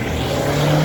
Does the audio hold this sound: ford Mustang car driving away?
yes